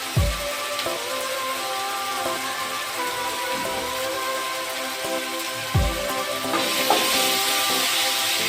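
Slit green chillies frying in a pan of oil for chole, a soft continuous sizzle with a few scraping stirs of a spatula, no voices.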